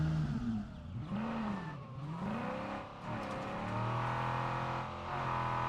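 A car engine in the video game State of Decay 2 revs and shifts pitch up and down as it accelerates hard, steady and fairly close, with no talking.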